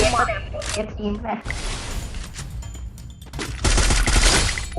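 Jumping headshots in a Free Fire match bring loud, rapid bursts of gunfire, with dense rattling volleys over game sounds and voices.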